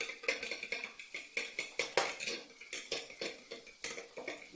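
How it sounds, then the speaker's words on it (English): Eggs being mixed with black pepper, turmeric and chili in a bowl for a plantain frittata, a quick steady run of close utensil clinks and scrapes against the dish, with no voices. "Now you go ahead and mix and make sure it's nicely blended and let it sit"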